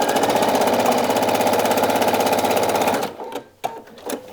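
A sewing machine stitching along a fabric seam runs steadily and fast for about three seconds, a loud, even mechanical chatter that then stops, followed by a few faint handling sounds.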